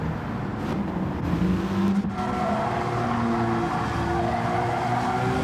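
A race car engine at Fuji in Gran Turismo 7 drones steadily at high revs, with tire squeal and a brief shift dip near the middle, loud and close for the whole stretch.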